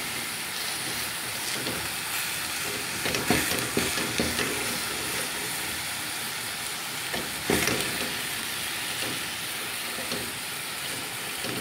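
Chicken fries with onion in a pan for a quiche, giving a steady, close sizzle throughout with a few louder scraping stirs breaking in.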